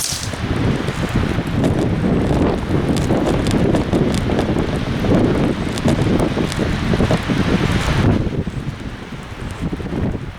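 Strong outdoor wind at a shooting range buffets the microphone in a steady, loud roar with gusty fluctuations, easing somewhat near the end, no talking.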